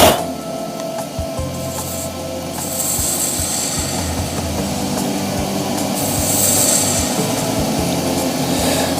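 A wood lathe spins an epoxy resin shaving brush handle blank, giving a steady, close whirring drone with a low motor hum and faint scraping texture that grows slightly louder near the end, with no talking.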